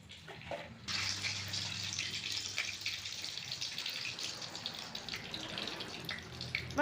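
Mustard seeds splutter in hot oil on a sawdust-fuelled stove, a steady close hiss and dense crackle that starts abruptly and runs throughout, with no talking.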